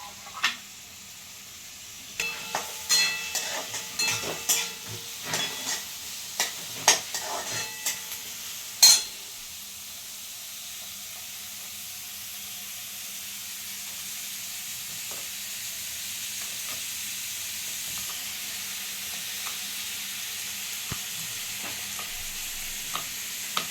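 Onion frying in a pan and being stirred while cooking a Maharashtrian kantola bhaji: a steady sizzle throughout, with scraping stirs clustered early and then a long stretch of frying alone.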